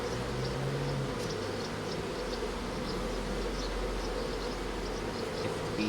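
A dense, continuous hum of many honeybees buzzing close by around a frame lifted from a nuc hive, steady and loud throughout with no voices.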